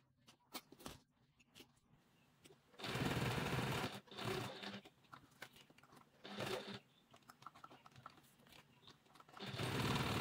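Sewing machine running top stitching in short bursts of rapid needle chatter, with pauses and small handling clicks between runs; fairly close and alone with no talk.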